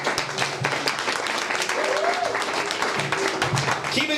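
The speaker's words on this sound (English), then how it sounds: "Keep it going for the commissioner of Clap Bitches University, Brian B." A comedy club audience keeps up steady applause and clapping, dense and loud throughout, with a host's voice running over it.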